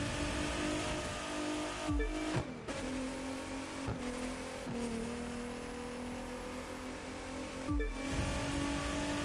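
A V6 hypercar engine in the video game The Crew 2 holds a steady high-pitched drone, punctuated by several quick gear-shift dips and revs, with no voices over it.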